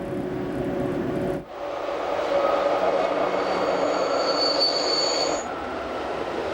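The Glacier Express rolls through the Runyuk spiral tunnel, a loud steady rumble of wheels on rails with a sudden shift partway through and a high, sustained squeal of wheels on the curve.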